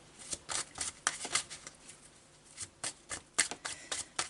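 Tarot de Marseille cards shuffled by hand, quick papery riffles and flicks coming in uneven bursts, close and crisp in a quiet room.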